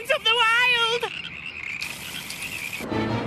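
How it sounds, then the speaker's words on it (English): Cartoon frogs croak in a plague-like swarm: a loud, warbling croak opens, followed by a steadier chirring stretch and a low rumble near the end, with no voices. "Get these frogs away from here. A plague of frogs?"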